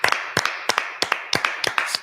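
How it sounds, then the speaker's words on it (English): A few people in a talk show studio clap in a sparse, rhythmic burst: roughly seven or eight sharp, close hand-claps spaced evenly over two seconds, with nothing else heard around them. "round of applause again for Brad."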